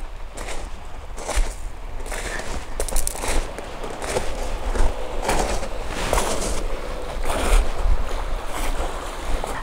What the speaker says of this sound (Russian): штиль, ветра нет, море спокойное